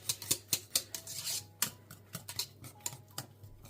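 A spoon works steadily through thick vanilla custard cream in a pot, giving a rhythmic series of sharp metallic scrapes and clinks, close and fairly quiet, with no voices.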